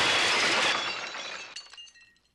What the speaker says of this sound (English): instead of the camera passing seamlessly through the glass window, it smashes straight into it